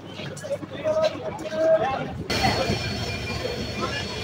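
Benapole Express train pulling into Rajbari railway station, a broad rumbling rush of wheels and carriages that swells abruptly partway through and stays loud and steady, with brief squeal-like tones and station chatter underneath.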